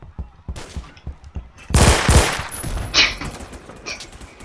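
Rapid gunfire from a machine gun in the Roblox shooter Phantom Forces, a burst of loud close shots followed by a few scattered cracks and faint clanks. No one talks during it.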